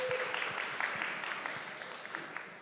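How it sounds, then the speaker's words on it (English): A crowd applauding a panel at Essence Fest, a continuous wash of clapping at moderate level that fades slightly toward the end, with faint voices underneath. "Let's give them a round of applause, everybody."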